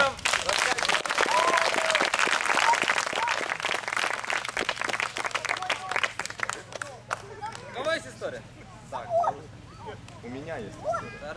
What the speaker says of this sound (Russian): Аплодисменты актерам!